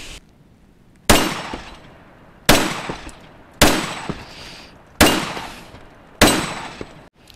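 Five sharp rifle shots fired with reloaded brass cases, spaced roughly a second apart outdoors, each a loud crack with a decaying echo tail, no talking between them.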